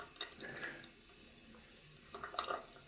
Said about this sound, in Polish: tak spływa woda